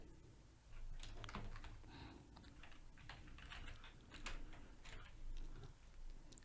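Quiet, rapid clicking of keys on a computer keyboard as a date is entered into a Google Sheets expense tracker, a run of close, light taps with short pauses.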